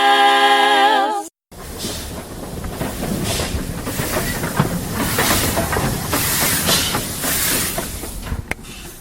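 A steam train at the Isle of Wight Steam Railway during a 1940s event, giving a steady hiss and rumble with irregular chuffing surges that run for several seconds after a brief musical jingle and a sharp cut.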